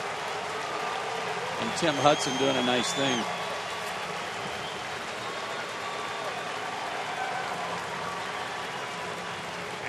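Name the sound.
Atlanta baseball crowd applauding Martin Prado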